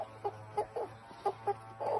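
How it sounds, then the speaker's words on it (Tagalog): Rhode Island Red chickens cluck softly in short, scattered bursts over a low steady hum, faint and fairly close. "Ito ang Rhode Island Red. Mas marami siyang mangitlog kesa sa natural na manok."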